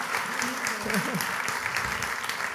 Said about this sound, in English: Should we give it another round of applause?